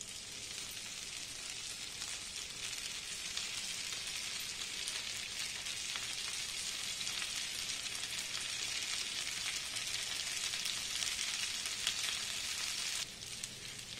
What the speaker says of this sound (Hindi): इसके ऊपर ऐड करते हैं हम पनीर टिक्का का स्टिक और अच्छे से इसे घुमाते हुए रोस्ट